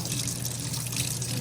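A paintbrush is rinsed under a running tap, giving a steady, close hiss and trickle of flowing water with a faint voice underneath.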